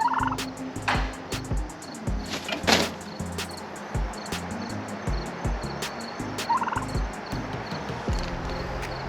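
Red heritage-breed turkeys raised for the holidays gobble in repeated rattling bursts, close and fairly loud, over a steady outdoor background with clicks and knocks.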